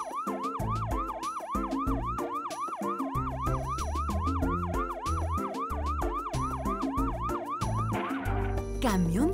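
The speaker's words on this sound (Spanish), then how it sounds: "¡Camión de bomberos!" A fire truck siren wails in fast repeated rising-and-falling cycles, loud and close, over a low engine rumble, shifting to a slower sweeping tone near the end.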